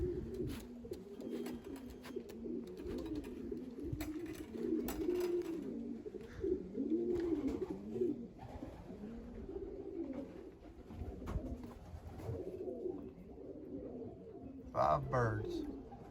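Several pigeons coo in repeated low, rolling calls throughout, fairly close, with a brief flutter of wings or clatter near the end, from racing pigeons being loaded.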